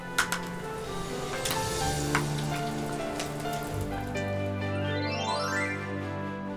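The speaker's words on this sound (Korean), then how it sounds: "기름 넉넉하게 두르고 미나리 부침개도 두툼하게 지글지글" Minari pancake batter sizzles and crackles steadily in plenty of hot oil, with a rising electronic tone sweeping up near the end.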